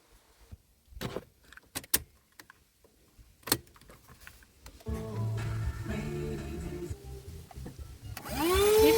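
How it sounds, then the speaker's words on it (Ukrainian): A few clicks and handling knocks, then a small car vacuum cleaner starts up with a steady motor whine that rises in pitch near the end. "все, пилосос працює"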